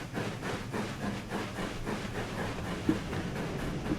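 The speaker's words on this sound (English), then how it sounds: "And it has the chuff sounds from the Fowler 4F." Steam locomotive chuffing with Fowler 4F chuff sounds, from a freeware train simulator mod of a GWR 5700 Class pannier tank on the West Somerset line, steady rhythmic exhaust beats repeating evenly at moderate pace over a hissing background.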